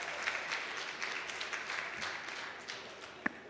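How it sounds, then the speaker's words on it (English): An audience at a World Food Day 2021 event gives a round of applause, a steady, moderately distant wash of clapping that runs for a few seconds and then tapers off. "Let's give them a huge round of applause for that as well."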